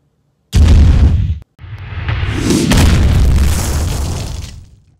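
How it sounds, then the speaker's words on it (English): A loud booming blast for the Confringo blasting curse effect from Harry Potter: one sharp explosion, a brief gap, then a longer roaring rumble that slowly fades out, with no talking. "Shoot a small explosive, anything it comes in contact with, it will explode."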